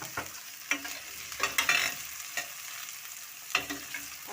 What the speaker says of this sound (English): Then fry them